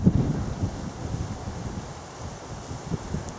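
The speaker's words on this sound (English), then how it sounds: "now I'm out in the open, the wind's picking up" Outdoors on a walk from Milford to Haslemere beside a motorway, steady wind buffets the microphone with a low, continuous rumble, stronger at the very start and then settling into a constant roar.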